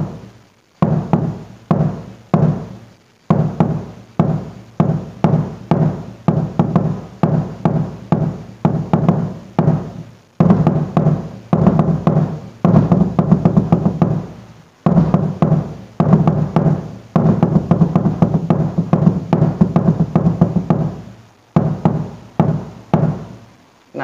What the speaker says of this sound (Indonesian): Nah itu suara bassnya ya,